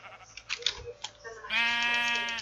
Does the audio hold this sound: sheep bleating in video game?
yes